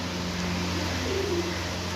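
Lakha pigeons cooing softly in a loft, a low brief coo rising over a steady background hum, faint and close.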